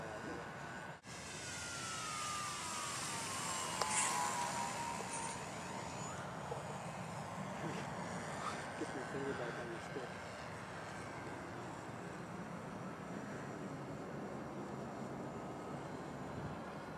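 A GWS T-6 Texan EPO radio-controlled plane with retracts makes low, slow flybys outdoors, its motor whine rising and falling in pitch as it passes at a moderate distance, with faint background noise.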